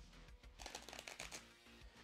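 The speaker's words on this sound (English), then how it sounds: "Cut. Shuffle deck. Cut their deck." A deck of cards for the 1990s BattleTech collectible card game is riffled and shuffled in quick, crisp bursts of flicking cards, close and fairly quiet on a tabletop.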